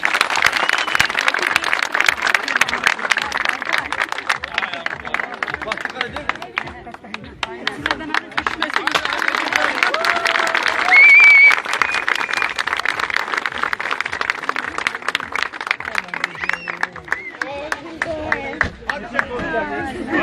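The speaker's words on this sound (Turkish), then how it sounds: "Alkış alkış hadi hadi alkış." Rhythmic group clapping at a village wedding in Benli village, Erbaa, continuing steadily under lively crowd chatter and music, with voices calling out throughout.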